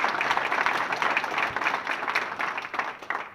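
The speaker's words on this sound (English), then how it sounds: "let's give Nico and everyone with Racer Athletics a round of applause" Audience at a naming rights ceremony for a performance center breaks into steady applause, many hands clapping at once in a fairly close, continuous patter that tapers slightly toward the end.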